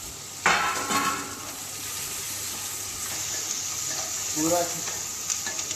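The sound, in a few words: onion added to hot oil with cumin, sizzling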